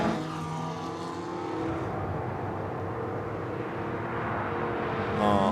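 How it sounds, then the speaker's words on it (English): A Lotus 49 Formula 1 car with a raised rear wing runs past on the Goodwood track, its engine a steady, loud harmonic drone that holds through the pass and swells slightly at the end. "we're back with the Lotus 49 with its raised rear wing"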